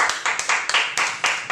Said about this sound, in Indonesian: Ayo beri tepuk tangan dulu bagi Tuhan.